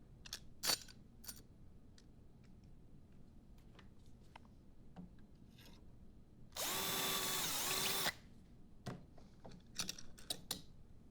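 A power drill whirs loudly for about a second and a half, drilling dowel holes through a doweling jig for a picture frame, bracketed by scattered clicks and handling knocks from the workpiece.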